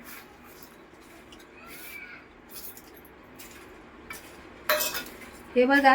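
Ground peanuts, sesame seeds and jaggery stirred together in a bowl, with faint scraping at first, then sharper clinks of a spoon against the bowl near the end.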